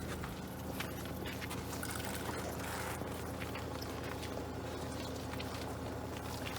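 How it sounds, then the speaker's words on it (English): Hot water runs from a shower hose in a camper van on an Alaska road trip, spraying in a soft, continuous hiss and trickle, steady and close with no talking. "It's nice having the hot water coming on you."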